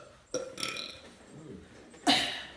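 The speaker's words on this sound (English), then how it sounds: "it feels good to burp it out because that junk hurt" Two loud, wet, rasping burps from a person, the second longer and stronger, close to the mic with a pause between them.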